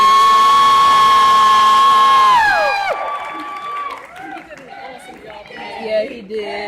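Convention audience at an anime cosplay contest cheering and whooping loudly for a Genji Shimada armor contestant, a dense roar of shouts and screams that drops into scattered voices and chatter.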